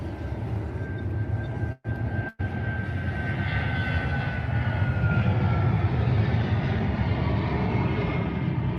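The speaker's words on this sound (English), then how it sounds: "This plane taking off from a city in Brazil almost took off too late." A plane takes off from a city in Brazil, its engines roaring in a broad, steady rumble that swells slightly and holds for about nine seconds, interrupted by two abrupt brief cuts near the start.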